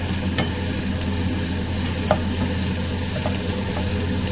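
Chopped onion frying in oil for a lentil dish, a steady close sizzle with light scraping stirs and a few small clinks, no voices.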